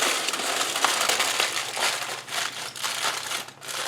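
An aluminum foil packet of rice and ice is folded closed, producing close, loud crinkling and crumpling in repeated bursts with no voices.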